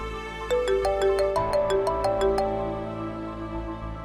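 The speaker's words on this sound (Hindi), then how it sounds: "पता नहीं अब किसका फोन आ गया" A phone ringtone plays a short, bright melodic pattern of repeated tones for about two seconds, then stops, leaving quiet room tone.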